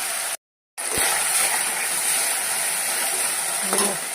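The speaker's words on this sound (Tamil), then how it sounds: "இஞ்சி பூண்டு பேஸ்ட்டை போட்டுக்கோங்க, நல்லா வணக்கிக்கோங்க" Onions and ginger-garlic paste fry in a pan for an egg curry, giving a steady close sizzle with soft stirring scrapes, broken by one brief dropout near the start.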